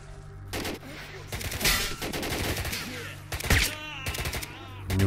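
Gunfire rings out in S.T.A.L.K.E.R., with bursts of sharp shots and rapid automatic fire coming from behind. The shots come in clusters mixed with game noise, and someone talks over them.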